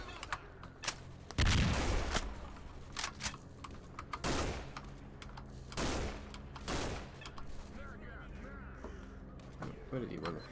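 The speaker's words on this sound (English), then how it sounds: "Eat an F1 grenade." An F1 grenade explodes in the STALKER shooter game with a heavy, booming blast early on, followed by scattered gunfire, cawing crows and someone talking over the action.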